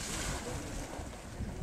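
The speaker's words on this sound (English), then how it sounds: "Just kind of splashing and splashing." West Triplet geyser in Yellowstone's Grand Geyser Basin splashes and gushes outdoors, a steady rushing wash of water mixed with wind noise on the microphone, heard from nearby without talk.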